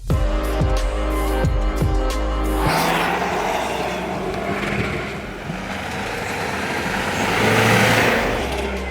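A Toyota Prado with a 2.4-litre four-cylinder turbo engine drives over desert, wadi and mountain terrain, its steady engine and road rumble filling the clip after a short burst of tonal revving at the start.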